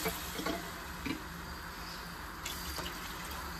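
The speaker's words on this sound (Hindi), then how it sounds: "2 ग्लास भर के पानी के डाल दें" Two glasses of water pour into a pot of shalgam gosht, a turnip and meat curry, giving a close, steady splashing stream with a few brief surges.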